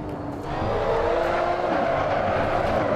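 A LaFerrari drifting in the Assetto Corsa racing game at Paul Ricard, a steady, loud engine roar with tyre squeal, rising and shifting in pitch as the car slides through a corner.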